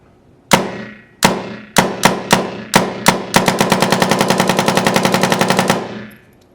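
A 98PS paintball marker with a tuned trigger fires a few spaced single shots, then a fast, evenly spaced string of sharp pops. The shots are loud and close, with no talking.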